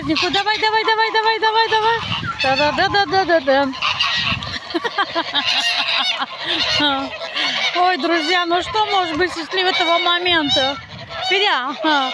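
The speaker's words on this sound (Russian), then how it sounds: "А вы что орете? Это индюшечки." Turkey hens calling loudly among other farm waterfowl and poultry, a dense overlapping chorus of honking, yelping cries, close and continuous, with someone speaking over the birds.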